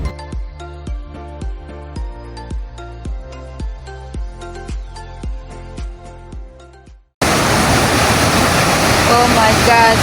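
The raging river at Pulang Bato Falls in Davao City, Philippines, bursts in as a loud, constant roar of rushing water after several seconds of plucked melodic notes, continuing steadily to the end.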